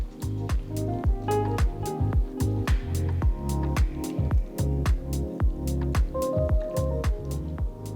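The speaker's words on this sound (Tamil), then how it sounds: "ஒரு கப் தண்ணி ஊத்தி நல்லா மிக்ஸ் பண்ணுங்க." Water is stirred into a raw jackfruit masala curry in a pan, giving rapid, rhythmic wet squishing and scraping strokes at close range.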